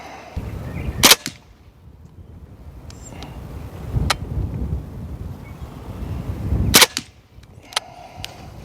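A suppressed 300 Blackout rifle with a Geissele SSA-E trigger fires outdoors: two sharp, fairly close cracks about six seconds apart, with a few fainter pops between, over steady wind rumble and no speech.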